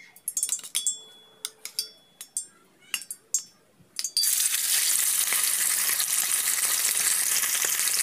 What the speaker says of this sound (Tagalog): At ipry lang po natin siya.